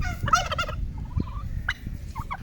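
A turkey on a farm gobbles close by in a quick rattling burst, followed by softer clucks and calls against a low outdoor rumble.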